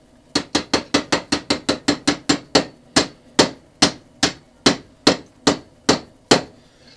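A blacksmith hammers a metal piece clamped in a vise to bend it to 90 degrees: about seventeen sharp, ringing blows, close and loud, quick at first and then slowing to a steady beat, with no talking.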